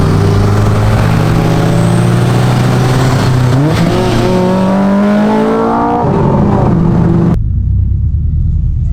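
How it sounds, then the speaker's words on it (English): A modified Subaru WRX engine revving hard under acceleration, loud and close, rising in pitch through the gears before cutting off abruptly near the end. "Was that a little VTech kicking in?"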